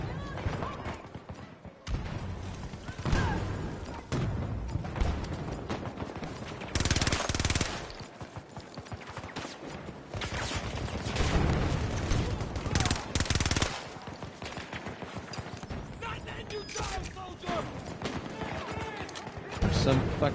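Gunfire aimed at the player in a shooter video game: rapid automatic bursts and scattered shots in clusters, loud and close at times, mixed with ongoing talk from players.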